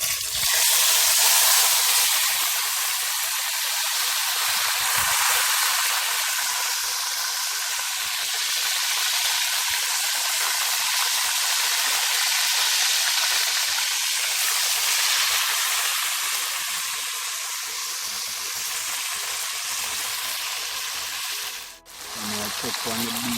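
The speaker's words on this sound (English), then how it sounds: "I'm gonna rest it in the pot now, because I think the pot is hot now." Beef searing in a hot pot for a Jamaican-style pot roast, giving a steady, loud broadband sizzle that holds for the whole stretch, with a brief dip near the end.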